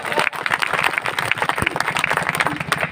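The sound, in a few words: audience applause at a poetry recital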